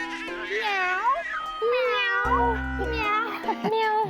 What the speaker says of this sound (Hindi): अच्छा, बिल्ली।